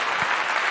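A brief, dense burst of hand clapping, like a recorded clap or applause sound played loud and close, lasting under a second.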